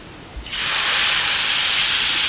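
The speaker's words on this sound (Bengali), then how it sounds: "এখানে আমি কড়াইতে দিয়ে দিচ্ছি কিছুটা তেল কিছুটা সাদা জিরে এবার দিয়ে দিচ্ছি গ্রেট করা লাল বিট" Grated red beetroot hits hot oil with white cumin in a wok, setting off a sudden loud, close sizzle that holds as a steady, bright hiss after a brief quiet start.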